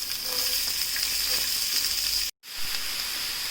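Chopped large onion frying in a pan of oil with popped mustard seeds while cooking ginger rasam, giving a steady loud sizzle throughout with a brief cut near the end.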